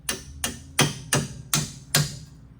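Six sharp hammer taps ring out at a steady pace as a Jeep Compass 2-inch lift kit part is driven into place, each strike close and metallic with a brief ringing decay.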